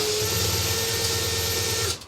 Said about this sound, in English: Try moving, like wiggling the drill left a little bit.